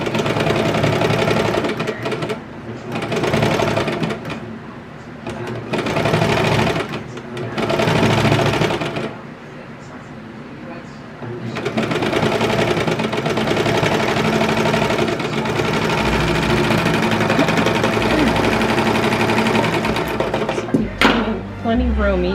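A sewing machine stitching a seam on a kids' raglan T-shirt while trimming a little fabric, running in loud, close bursts of rapid mechanical whirring with brief pauses, and a voice talking over it.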